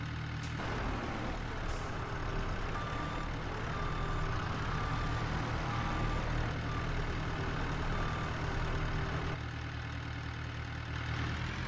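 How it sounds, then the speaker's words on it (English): A skid steer in Farming Simulator 22 backs onto a trailer, its engine idling with a steady low rumble while a repeating reverse beep sounds clearly throughout, stopping near the end. "I did actually have to get the skid steer backed on"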